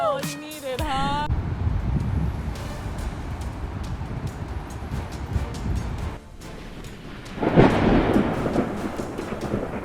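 Thunder rolls across the night sky of northern Colorado during repeated lightning strikes, a continuous low rumble that swells louder near the end, with a brief tonal sound at the very start.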